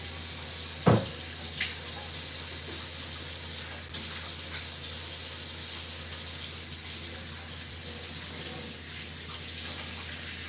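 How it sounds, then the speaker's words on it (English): A tap runs steadily for hands being washed at a sink, a constant broadband hiss lasting throughout with a brief knock near the start and no talk. "Let me go wash my hands real quick, y'all."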